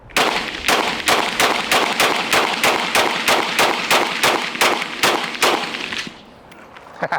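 Rapid, evenly spaced gunshots from an FN pistol ring out one after another, about sixteen sharp, loud cracks close by, then stop and leave a short quiet tail with no talk.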